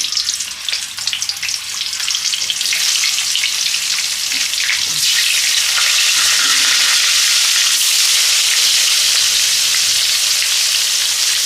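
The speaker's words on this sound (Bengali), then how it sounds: "তেলটা আমার গরম হয়ে গেছে, হলুদ দিলাম। এবার আমি একটু আলুটা ভেজে নেব।" Potato pieces frying in hot oil with turmeric, a loud, steady, close sizzle that crackles without pause and with no one speaking.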